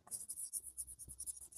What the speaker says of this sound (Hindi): तो लिखेंगे यहाँ पर हेडिंग